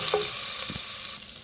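Garlic sizzles in rendered pork fat in a pan, cooking for a chayote and shrimp dish. The frying is a steady, close, bright hiss, with a few light clinks from a utensil and no talk.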